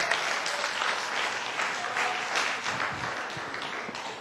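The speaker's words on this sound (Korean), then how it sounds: "박수 한번 보내주세요." Dense audience applause at a farming-themed talk, a steady wash of many hands clapping close and loud throughout with no speech over it.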